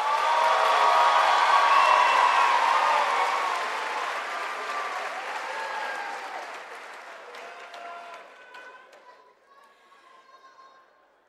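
A large crowd at a high school commencement applauds graduates loudly and steadily, the clapping gradually thinning and fading over several seconds as scattered voices emerge.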